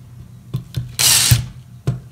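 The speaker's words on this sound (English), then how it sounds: "You put the drill with the dowel maker down. You start slowly." A power drill fitted with a dowel-maker bit bites into a piece of wood in one short, loud, harsh burst. Several sharp knocks and clicks from the tool come before and after it.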